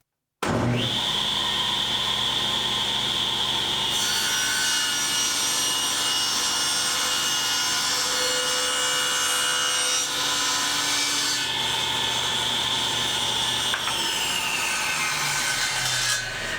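A saw runs through a wooden board for a pantry shelf cut, a steady whining tone with a brighter high-pitched screech through the middle of the cut, loud and continuous for about fifteen seconds.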